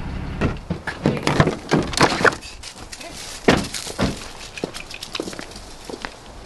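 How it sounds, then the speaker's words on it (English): Hay is unloaded from a truck on a ranch: a loose series of dull thumps, knocks and rustles, close by and irregular, bunched early and thinning out later. "On to unloading the hay."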